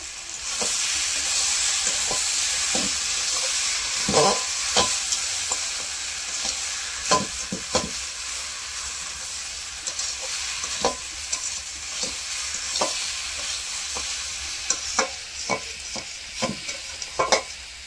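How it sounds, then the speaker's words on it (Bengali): Spices and tomato sautéing in a pan for a Bengali mourola fish curry with mustard, poppy seed and eggplant, with a steady sizzle and hiss broken by repeated scraping stirs at irregular intervals, close and alone. "এইভাবে তো কিছুক্ষণ কষার পরে টমেটো গলে গিয়েছে"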